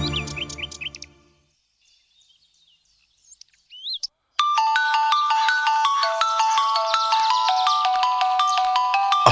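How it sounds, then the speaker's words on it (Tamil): A phone ringtone for an incoming call plays loud and steady for the last five seconds, a repeating melodic pattern of bright tones, following a stretch of near silence and faint chirps. "அப்பாட்ட இருந்து போன்."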